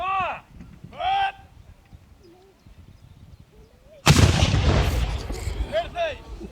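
A 3-pounder cannon fires a 100 gram gunpowder charge during a drill, one loud, sudden blast that rolls on with a long noisy decay, after shouted commands from the crew.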